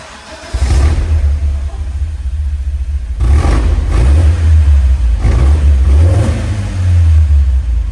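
A BMW E46 four-cylinder engine with a muffler-delete exhaust starts and revs loudly in several surges, its deep, raspy exhaust rumble booming close by with no talking.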